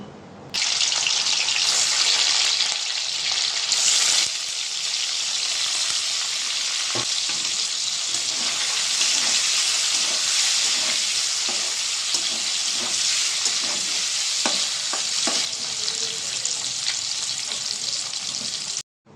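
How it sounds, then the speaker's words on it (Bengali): Paneer pieces frying in oil in a kadai give a loud, steady sizzle throughout, with occasional soft scrapes and clinks from stirring, and no voices. "তো পনিরগুলো এখানে ভেজে নিচ্ছি"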